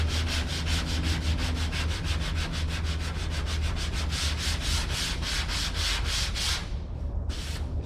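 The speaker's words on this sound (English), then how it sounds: "Sanding down the guide coat" Rhythmic back-and-forth strokes of 80-grit sandpaper sanding guide coat on a car body panel during dent repair, steady and close, with a quiet low hum underneath and a brief pause near the end.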